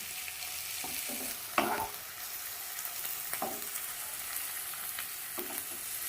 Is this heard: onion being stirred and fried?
yes